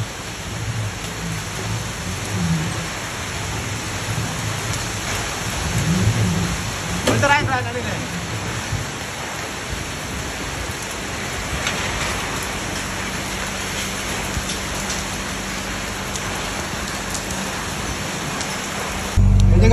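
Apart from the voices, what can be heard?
heavy rain with hailstorm and thunder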